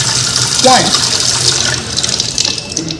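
Water runs from a tap into a cooking mixture, a steady hissing stream throughout with a brief voice partway through.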